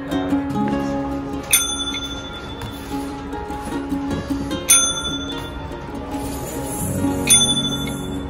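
Small bell rung by a Shih Tzu puppy during bell training, a few sharp metallic dings spaced seconds apart over a murky indoor background.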